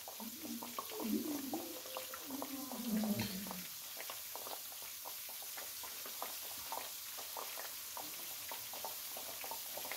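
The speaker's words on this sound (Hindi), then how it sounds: "कढ़ाई में मैंने तेल गर्म होने के लिए रख दिया था। अब मछली के पीस को डालना है।" Fish pieces fry skin side up in hot oil in a kadhai, a soft continuous crackle and bubble with a few faint knocks, with a brief low voice at the start.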